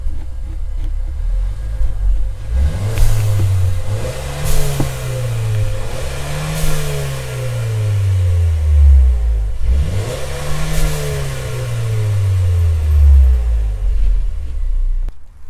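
A Mercedes GLA with a stage 2 tune revs repeatedly, its engine note climbing and falling in several loud, close sweeps over a low idle rumble, with no talking.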